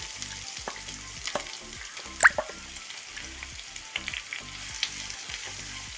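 Sliced onions sautéing in a pan, a continuous soft sizzle with repeated rhythmic scrapes and taps of a spatula stirring, close and moderately loud, with no talk.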